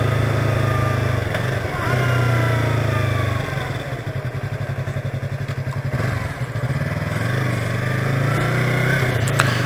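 A motorcycle engine drones steadily while riding through the center of Goiânia at night, with a low, continuous rumble that briefly shifts into a rapid pulsing idle before picking back up, alongside faint traffic noise.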